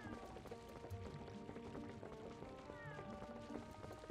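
A cat meows repeatedly in The Legend of Zelda: Twilight Princess, several cries standing out over busy game music and ambience.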